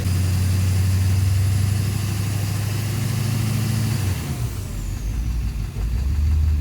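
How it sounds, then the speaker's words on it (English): A Duramax LMM diesel engine idles with a suspected knock, giving a steady, deep rumble close by that shifts pitch partway through. No one talks. "now you hear the knock"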